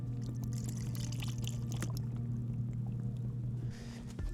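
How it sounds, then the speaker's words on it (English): Diesel fuel poured into the tank of an Hcalory diesel heater, a steady low gurgling pour with slight sloshing, close and quiet, easing off near the end. "I need to refill a little bit more diesel."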